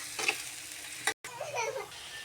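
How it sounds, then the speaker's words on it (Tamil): Onions, four medium ones, frying and being stirred in a pan for prawn thokku, with a steady sizzle and scraping strokes, a brief dropout near the middle, then softer sizzling. "வெங்காயம் நல்லா ப்ரௌன் ஆகிற வரைக்கும் நல்லா கொஞ்சம் நம்ம வதக்கிக்கலாம்"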